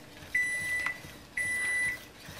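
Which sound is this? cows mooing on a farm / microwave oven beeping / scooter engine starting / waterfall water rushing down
microwave oven beeping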